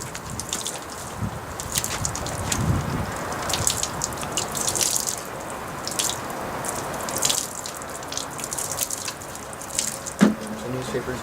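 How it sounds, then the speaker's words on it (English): Water trickling and splashing from a small container onto newspaper bedding for a Worm Factory 360 worm bin, with uneven drips and pours close by and a voice speaking briefly. "So the last little bit, wet some newspaper."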